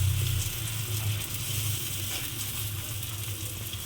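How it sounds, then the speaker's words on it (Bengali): Batter for a homemade snack ladled into a hot pan hisses as it fries, a steady close sizzle with a low hum underneath and no speech. "এইবারে আমি এর মধ্যে এই ব্যাটারটা হাতায় করে এইভাবে দিয়ে দেব"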